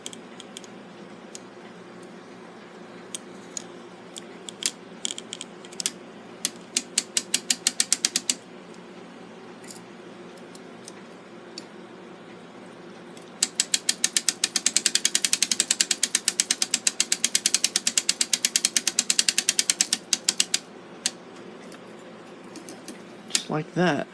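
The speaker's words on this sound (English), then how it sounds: "we can reverse the ratchet on the winder and let the spring down into the clip retainer" A clock winder's ratchet clicks in rapid bursts as it is reversed to let the mainspring of a Gilbert long-drop octagon clock down, the dense pawl ticks coming in two main runs over a low hum.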